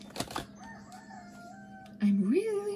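A rooster crows loudly indoors near the end, one rising, drawn-out call breaking through after a quiet stretch with a couple of short sharp knocks at the start.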